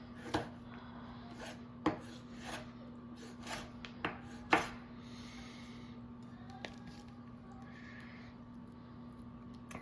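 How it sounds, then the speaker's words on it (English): A knife slices soft jarred peppers into rings for a Greek salad, giving a handful of sharp, sparse cuts against a board over a steady low hum, close and quiet, with no voices. "I'm just gonna slice them like this into rings for our salad"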